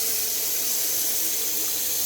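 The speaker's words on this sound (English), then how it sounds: "Let's turn the water on." Kitchen tap water rushing steadily into a sink after a garbage disposal install, a broad continuous hiss lasting about two seconds at even loudness, with no voices.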